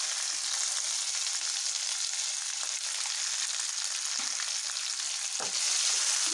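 Shallots, garlic and curry leaves frying in oil for an eggplant spicy curry, with a dense, constant close sizzle and occasional soft stirring knocks.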